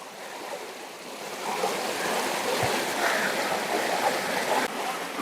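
A river flows in a steady rushing wash beside an outdoor cooking spot, moderately loud and continuous, with a brief low knock partway through and no talk over it.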